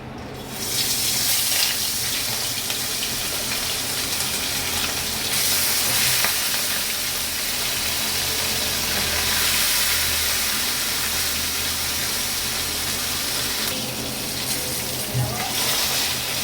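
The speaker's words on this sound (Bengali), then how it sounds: "তেলটা কিন্তু ভালো গরম হয়ে গেছে। এবার আমি এর মধ্যে মাছগুলো কিন্তু খুন্তিতে করে করে দিয়ে দেবো।" Fish pieces fry in hot oil in a wok, a loud, close, continuous crackling sizzle that holds steady throughout with only brief shifts in intensity and no clear talking.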